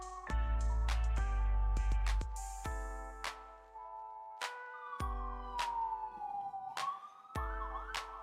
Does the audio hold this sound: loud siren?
yes